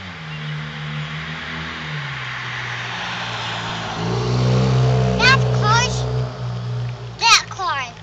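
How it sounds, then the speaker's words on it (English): A car drives along a street and grows steadily louder as it approaches and passes close by. A child and an adult talk over it. "There's a car. You hear it?"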